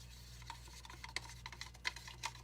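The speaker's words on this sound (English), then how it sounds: "I'm gonna stir it to dissolve the borax in here" Faint scraping and rubbing of a spoon stirring borax into warm water in a small cup, a handful of soft irregular strokes over a low background hum.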